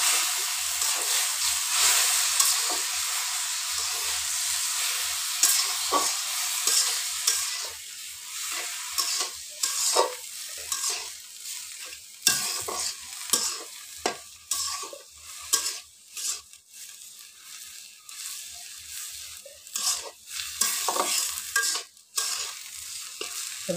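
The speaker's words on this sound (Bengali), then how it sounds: "এবার একেবারে ভাজা ভাজা করে নামিয়ে নেব।" Malabar spinach and egg fry in a pan with a steady loud sizzle and hiss, broken by repeated scraping stirs and no voices.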